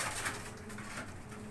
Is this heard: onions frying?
no